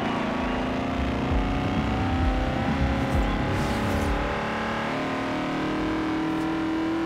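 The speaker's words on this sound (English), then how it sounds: "Let's listen to this V8." A V8 engine in Forza Horizon 2, revving up with a deep, rumbling burble and rising pitch, then settling into a steady drone, loud and close with no talk.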